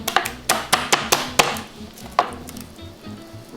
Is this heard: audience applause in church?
no